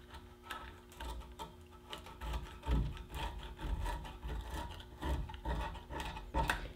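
A rubber sanding block scrubs across a boat surface during a restoration, giving repeated rough rasping strokes in an uneven back-and-forth rhythm, close but fairly quiet.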